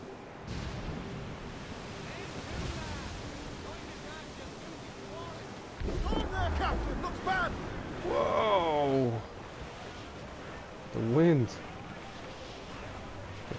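A ship in Assassin's Creed IV Black Flag pushes through ocean waves, a steady wash of surf and wind noise with louder surges, while voices speak over it.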